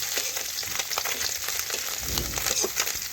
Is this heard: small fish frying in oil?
yes